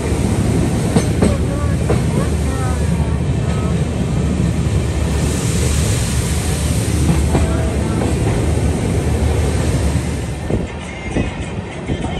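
Train at Jalpaiguri railway station, loud and close, with a continuous rumble and clattering of wagons throughout, fading slightly toward the end.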